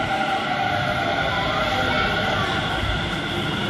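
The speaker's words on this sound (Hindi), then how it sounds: "तो गाइस मेट्रो भी आ चुका है, इसी का वेट कर रहा था हम लोग।" A Delhi Metro train pulls into a station with a loud, continuous rumble and a sustained high whine close by, while voices murmur faintly beneath.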